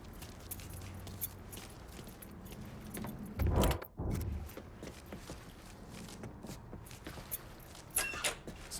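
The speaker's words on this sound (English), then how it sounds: "Lincoln, pick up the keys." Truck keys picked up in Mafia III, a brief metallic jingle and clatter near the middle, heard over low ambient game noise with no talking.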